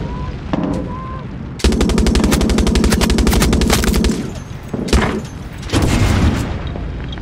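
Tank guns open up in the video game Far Cry 6: a loud, sustained burst of rapid machine-gun fire, then booming blasts and further volleys, very close and dominant.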